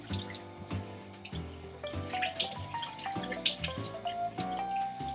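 Juicer parts are rinsed under a running tap, a steady close stream of water with clinks and shifting splashes as the pieces are handled.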